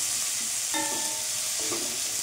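Ginger and garlic paste sizzles while being stir-fried in a small amount of oil, a steady close hiss with a couple of faint metallic scrapes from stirring.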